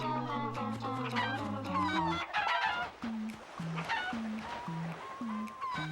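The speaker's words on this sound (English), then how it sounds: "Well, we got some chickens." Chickens cluck repeatedly in the Crash Twinsanity video game, with a rooster-like crow at first and then steady, rhythmic clucks over a busy game soundscape.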